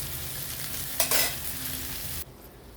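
Oil sizzles quietly and steadily as chicken pieces fry, Kerala style, with a brief louder stirring scrape partway through before the sizzle fades.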